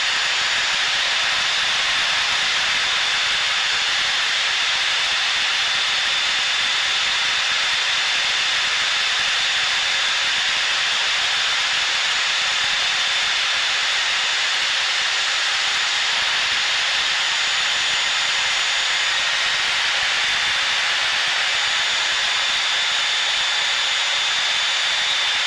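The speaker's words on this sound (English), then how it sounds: "And I'll show you how slow this jet can fly." A Blue Angels jet flying slowly near clouds, heard from inside as a steady, loud broadband roar and hiss of jet engine and airflow that holds unchanged for the whole stretch, with no talk.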